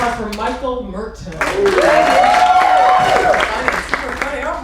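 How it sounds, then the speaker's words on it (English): Applause from a comedy club audience at a stand-up show for a comedian leaving the stage, rising after a few spoken words into a steady burst of clapping, with a shout or two and crowd voices mixed in. "Another round of applause for Michael Merton."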